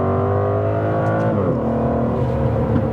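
Aston Martin DBS Superleggera V12 in sport mode, heard from inside, with a loud, rich engine drone that drops in pitch as revs fall, crackling with burbles and pops on the overrun.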